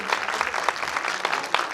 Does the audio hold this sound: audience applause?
yes